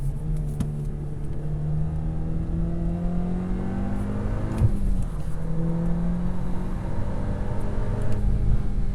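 A 2023 VW Golf R engine on a race track, revving as it blips through heel-toe downshifts; steady engine drone with harmonics sweeping up and down, a sharp blip near the middle, continuous and fairly close.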